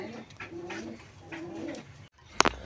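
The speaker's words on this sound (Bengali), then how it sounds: "বন্ধুরা এখানে এক জোড়া কবুতর আছে" A pair of domestic pigeons, a sky-blue male and a white bird, coo in a few soft, rolling phrases close by, followed by a brief sharp knock near the end.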